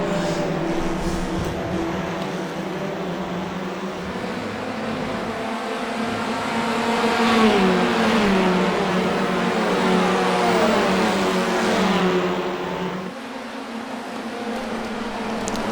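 An Audi TCR race car engine in the iRacing sim drones steadily, with pitch climbing and falling through the gears, loud and continuous before dropping off near the end.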